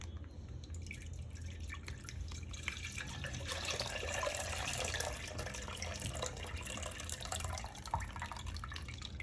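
Water being poured into the outer chamber of a milk cooker already holding milk, a continuous splashing and dripping stream with a low rumble beneath, steady throughout and with no one speaking.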